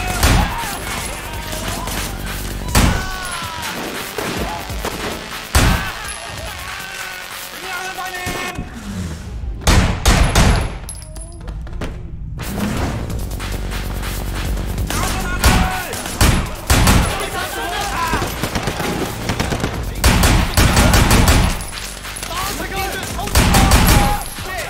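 Rapid bursts of gunfire in the video game Sleeping Dogs crackle loudly and repeatedly across the scene, with a short lull midway and occasional thuds, while someone talks over the shooting.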